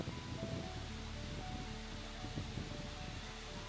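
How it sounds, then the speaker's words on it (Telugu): Purling Brook waterfall near Brisbane gives a faint, steady wash of rushing water, distant and constant, with some wind noise on the microphone and no voices. "ఈ వాటర్ ఫాల్స్కి ఎవరైనా ప్లాన్ చేస్తే నేను వాళ్ళ కోసం కొన్ని టిప్స్ చెప్తాను"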